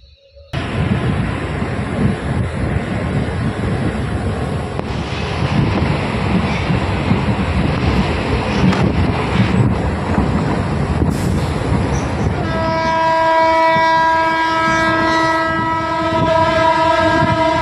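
A passenger train rolls on after leaving Vaishali station toward Sonpur, with a loud steady rumble of wheels and carriage noise throughout and a sustained horn tone sounding near the end.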